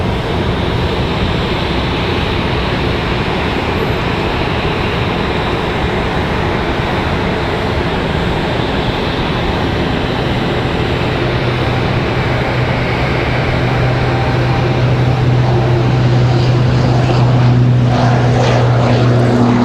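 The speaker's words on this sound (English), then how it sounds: "Another Pilatus departure." A Pilatus propeller plane departs from Raleigh-Durham International, its loud, steady droning buzz filling the whole stretch with rising engine tones toward the end and no talking.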